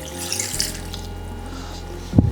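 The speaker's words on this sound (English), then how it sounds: "fill the pot up until the bones are covered, like around 8 cups of water" Tap water running steadily into a pot of turkey bones to make stock, a continuous close splashing stream that ends with a louder clunk.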